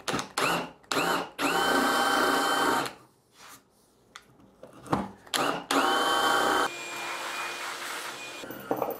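A power drill bores a bolt hole into construction lumber for a simple bed frame, whining loudly in several bursts that start, stop and slow, with short pauses between them.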